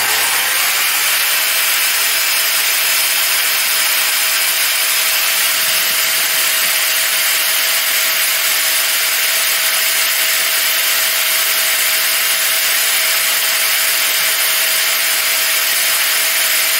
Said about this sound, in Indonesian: Selanjutnya kita akan uji RPM maksimalnya dan juga untuk tingkat kebisingan.